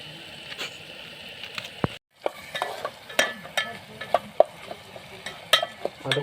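Oil goes into a pan over a campfire during a night trek stay at Ghangad fort, and food fries and gets stirred with a spatula, making scraping clicks and crackles. A short silent gap comes near the start.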